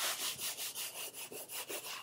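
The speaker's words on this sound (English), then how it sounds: "we might try, I got a wet rag here, we might try to deal with it ourselves. And no matter how hard I scrub at this" A wet rag scrubbing hard at a stain, heard as about eight quick, rhythmic back-and-forth rubbing strokes, close and fairly soft, with no talking.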